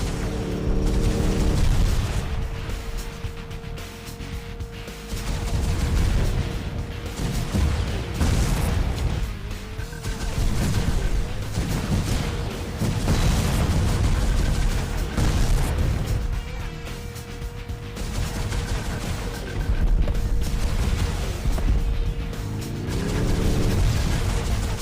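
Missile explosions from a spy car video game, a dense, continuous run of loud booms and blasts under an engine-like drone and game music, with no let-up across the whole stretch.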